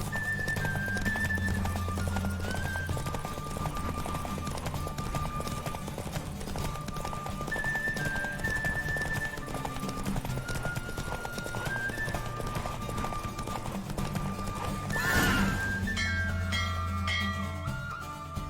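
Galloping horse hooves in a Witcher 3 race drum in a steady, close rhythm over game music, ending with a brief bright flourish near the finish.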